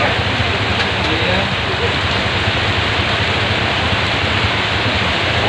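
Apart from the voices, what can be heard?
heavy rain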